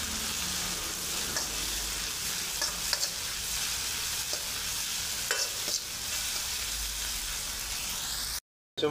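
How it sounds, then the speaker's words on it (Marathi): Garlic sizzles in hot oil for a tempering alongside roasted tomatoes and is stirred steadily, giving a loud, continuous frying hiss with occasional scrapes and clinks from the spoon close by and no talk. "लसूण देखील फोडणीमध्ये परतवून घ्यायचं आहे."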